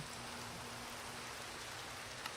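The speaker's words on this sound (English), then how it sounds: "That rain is super loud." Steady, dense rain from a video game world, a loud even hiss of falling drops filling the whole moment with no break or variation.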